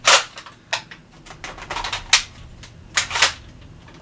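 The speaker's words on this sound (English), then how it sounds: "We're going to discharge the weapon." An AF Nexus Pro spring-powered blaster, fitted with a 3D-printed spring mod and loaded from a 12-round magazine, fires Elite foam darts in a series of sharp, close snapping cracks with mechanical clicks in between, no voices.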